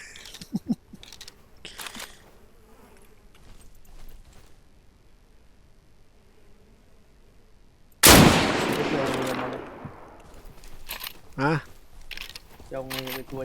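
Gunfire in the video game DeadSide: scattered sharp shots early, then a loud blast with a long reverberant tail and further rapid shots, with a voice talking at times.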